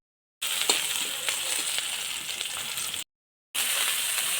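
Green chillies frying in hot mustard oil in a wok give a loud, close, steady hiss and crackle that runs unbroken, cuts off briefly, then resumes, with no talking.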